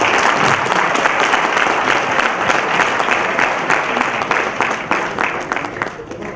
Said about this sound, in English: The applause for Sania Mirza wasn't loud enough.